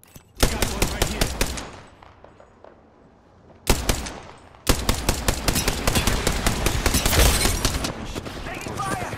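Rapid automatic weapon fire in an Apex Legends ranked arena match, loud dense bursts of shots with a brief lull and then sustained continuous firing.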